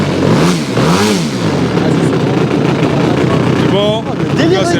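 A large remote-controlled model airplane engine, about 2.8 m tall, revs loudly and close by with rising and falling sweeps in pitch, while people talk over it.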